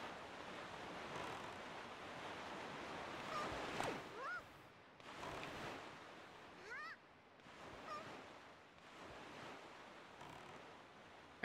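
A boat sails across the ocean in the video game Zelda: Wind Waker, with a steady rush of wind and waves and a few brief squawking seagull-like calls over the surf.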